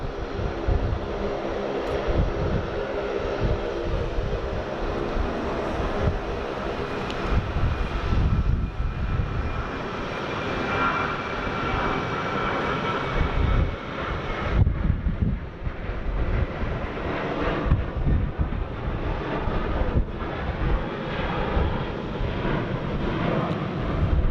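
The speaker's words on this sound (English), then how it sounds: "Loud sub 340 making all the noise." A Saab 340 turboprop at Sydney Airport drones loudly and steadily for the whole stretch, a dense engine roar mixed with wind buffeting, with no voices heard.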